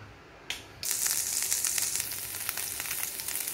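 A sudden loud sizzle erupts as ginger garlic paste hits hot oil, then continues as a steady, crackling fry close by.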